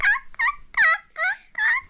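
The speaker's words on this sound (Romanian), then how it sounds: "Gâște, gâște. Vreți mâncare?" Geese honking close by on a Romanian homestead while being called for feeding, five loud, nasal calls in a quick, uneven series with short gaps between them.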